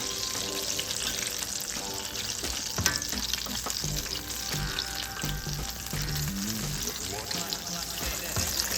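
Biscuit-dough apple hand pies frying in oil in a pan, a steady loud sizzle with crackling pops and scraping of a utensil as the pies are turned.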